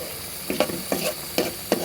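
Food being stirred and sautéed in a pan at home, with short scraping, stirring bursts roughly every third of a second over a steady low sizzle.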